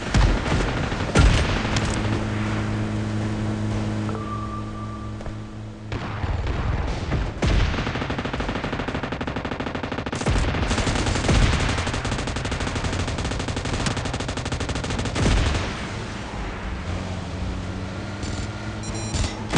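Rapid bursts of automatic gunfire and booming shots from the mobile battle royale game PUBG Mobile, loud and sustained throughout, with repeated volleys over a constant background hum.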